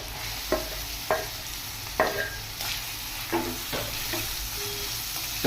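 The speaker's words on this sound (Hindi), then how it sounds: "पियाज को 5 मिनट फ्राए करने भी।" Onions frying in a pan for a Malabar spinach dish, a steady broadband sizzle with a few sharp clacks from a stirring spoon spaced through the sound, no voices.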